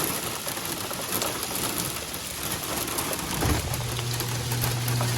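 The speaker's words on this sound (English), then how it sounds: "The rain just like opened up." Heavy rain pours down steadily outdoors while someone shelters under a small overhang, a dense broadband hiss filling the whole clip with a low hum appearing midway.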